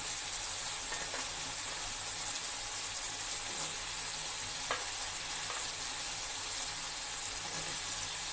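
Data stems (drumstick vegetable) fry in hot spiced oil with a constant bright sizzle and hiss, punctuated by a few soft stirring clinks, close by and with no talking.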